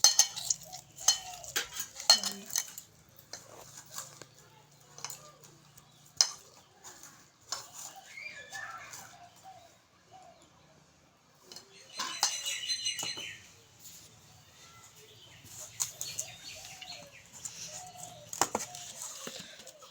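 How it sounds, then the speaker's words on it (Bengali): Wheat flour dough is kneaded by hand with water in a tiffin bowl: soft squishing and pressing mixed with metallic scrapes and clinks against the bowl, irregular and close, with quiet stretches between bursts. "এখন আমি অল্প অল্প করে জল দিয়ে ভালো করে মেখে নেব।"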